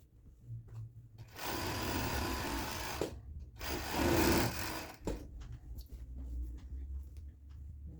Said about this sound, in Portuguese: Vou passar o overlock, passem sempre com cuidado, tá? Pra não cortar o tecido.